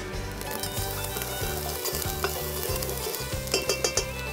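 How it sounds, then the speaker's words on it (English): Tomatoes, shallots, garlic and chili sizzle steadily in a pan for a mussel dish, with a spoon stirring and scraping through them and a few louder clinks near the end. "We'll give that a little mix."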